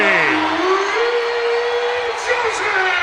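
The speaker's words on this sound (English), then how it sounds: "you hear the crowd going crazy" A loud arena crowd roars and cheers continuously at a Kentucky vs Tennessee women's college basketball game, with a commentator talking over the noise throughout.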